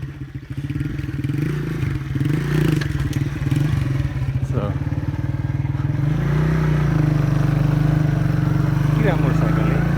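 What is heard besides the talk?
motorcycle ride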